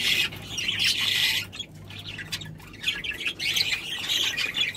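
Rainbow budgerigar chicks in a nest box give loud, close, continuous raspy squawks and chirps, with one brief pause in the middle.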